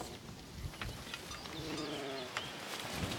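A flock of ewes bleats while crowding at a pasture gate in the Niolu hills of Corsica, several overlapping calls near and far against steady outdoor noise.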